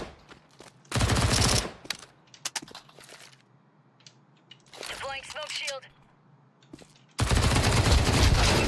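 SMG fire in Counter-Strike Wingman: loud sustained automatic bursts at the start and end, scattered shots between, with mechanical clicks and a short tonal chirp, under quiet talk.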